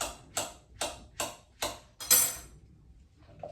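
Bananas are chopped on a board for a strawberry smoothie. Five or six evenly spaced knife thuds land about half a second apart, close and fairly quiet, then trail into near silence.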